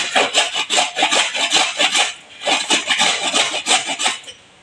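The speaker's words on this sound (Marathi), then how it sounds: "हे बघा अशी हळद किसून घेणार आहे. जाड हवी, जाड किसणी वापरायची." Fresh turmeric root being grated on a coarse grater, a close, continuous rasping scrape in quick back-and-forth strokes, with one short pause midway and a brief stop at the end.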